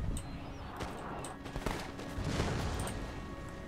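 Militia musket volleys crackle in the video game Empire Total War, a rolling spread of shots fired over a battlefield, fairly faint and distant, overlapping in uneven bursts.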